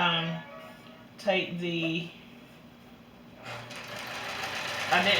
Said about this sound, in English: And then just keep matching it up and stitching all the way down.